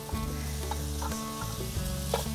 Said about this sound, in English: It's searing really nice. Got a good bed of coals under there.